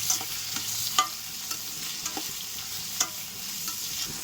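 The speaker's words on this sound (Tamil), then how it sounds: "கருவேப்பிலை போட்டுக்கலாங்க. வெங்காயம் போட்டுக்கலாம். எல்லாம் 2 நிமிஷம் நல்லா வதக்கிக்கலாம்." Onions and curry leaves sauté in hot oil for chicken kulambu, giving a steady close sizzle and frying hiss broken by the clatter of stirring against the pan, with no talking.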